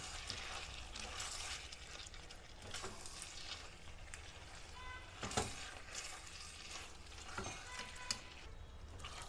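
Taro and previously fried potatoes sautéing in a pan for a fish dish, a soft steady sizzle with occasional stirring scrapes, fairly quiet and close.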